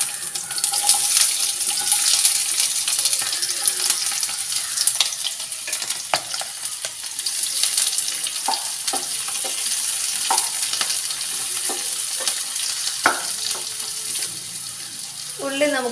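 Onions fry in a pan with green chilies for a Kerala toddy-shop style beef fry, a continuous close sizzle with stirring scrapes and taps for sixteen seconds, and water running in the background.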